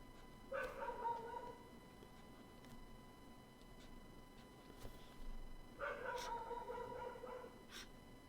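A dog barks faintly in the distance in two separate bursts of several barks each, with a quiet pause between them, while a person speaks at a low level.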